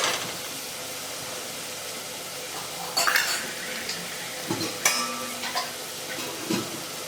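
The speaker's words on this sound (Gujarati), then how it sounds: "આ બધા જ મસાલા ઉમેરી દેવાના અને હલાવી લેવાનું. 1 મિનિટ સુધી હલાવશું આપણે." A spoon stirs spice masala into chole gravy in a pan, with a soft steady sizzle underneath and several sharp clinks and scrapes of metal against the pan, close and without speech.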